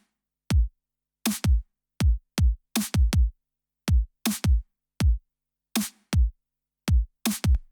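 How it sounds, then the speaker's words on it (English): Kick drum and snare drum samples from a remix play alone in a simple repeating pattern: deep, punchy kicks with sharp, bright snare hits layered on some of them, loud, close and dry, with no other instruments. "this is what the kick and the snare sounds like just by themselves"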